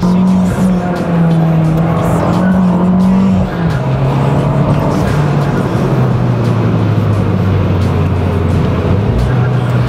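An Abarth stage 3 car with an automatic gearbox accelerates hard, its engine droning loud and close, with the pitch dropping at a gear change partway through and a rough roar underneath.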